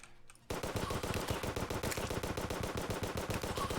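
Terraria gameplay erupts after a brief quiet moment into rapid, continuous bursts of game gunfire and rocket blasts, with rhythmic repeated shots that stay loud and dense to the end.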